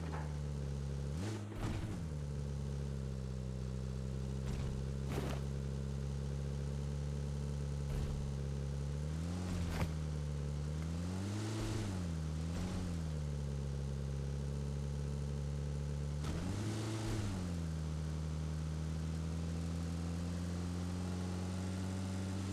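A vehicle engine drones steadily while driving in PUBG Mobile, its hum rising and falling with throttle shifts and gear changes over a long continuous stretch, with brief clicks and knocks on top and no talk.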